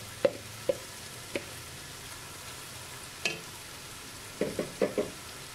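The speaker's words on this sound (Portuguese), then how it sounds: "Vou mexer ela aqui para pegar os sabores lá do fundo da nossa panela" A spoon stirs cassava soup in a cooking pot, giving a few soft scraping clinks spaced through the clip and a short burst of several quick strokes near the end, over a quiet background.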